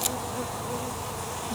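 A dense, continuous buzz of many honeybees at a hive during an inspection fills the clip, close and steady, with a brief click at the start.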